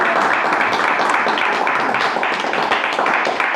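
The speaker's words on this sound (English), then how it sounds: "Another great round of applause for Kelly." Applause at a meeting, a loud, close, steady patter of hands clapping that carries on without a break.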